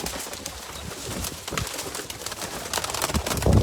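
Taddy pigeons kept for sale coo softly amid steady rustling and scuffling background noise, close by, over a few seconds with no speech.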